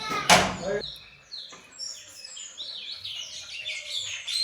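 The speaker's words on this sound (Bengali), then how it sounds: "পাখির ডাকও শুনতে পেয়েছি এই দেখো" Several birds chirp and tweet repeatedly in the background at dawn, with a short burst of a voice at the start.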